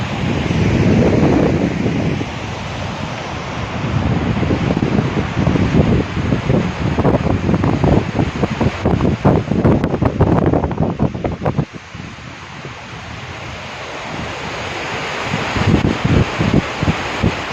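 Water pours over the Palar dam waterfall at Kodahalli lake, Bethamangala, in a steady, close, broadband roar, with gusts of wind buffeting the microphone throughout.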